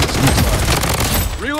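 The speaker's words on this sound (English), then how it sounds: "I'm under heavy fire." Heavy automatic gunfire in the shooter Blood Strike, a loud, dense burst of rapid shots rattling continuously for under two seconds, ending with a sharp metallic ring.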